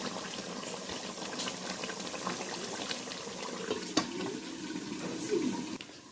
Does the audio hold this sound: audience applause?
no